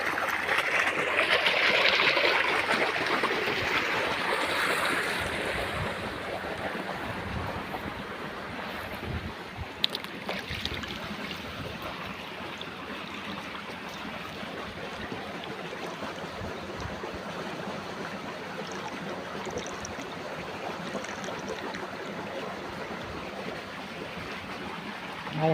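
Irrigation water running through a mustard field on a farm, a steady broadband rush of flowing water heard close and continuous, with wind buffeting the microphone and louder gusts near the start.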